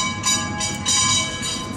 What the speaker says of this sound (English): Please keep your head, your arms, your legs, in fact, all your miscellaneous body parts inside the cars whenever the train is in motion.